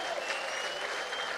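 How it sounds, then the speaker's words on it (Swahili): A crowd gathered in Meru breaks into steady, even applause to welcome an arriving guest, a continuous wash of clapping heard from some distance. "Makofi anapokaribia"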